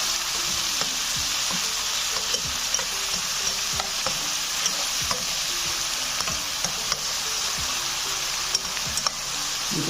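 Tomato masala fries in a pot for aloo tahari, a dense continuous sizzle broken by regular scraping strokes of a spoon against the pot, close and loud, with no one talking.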